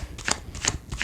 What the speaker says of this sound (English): I cannot talk and shuffle at the same time.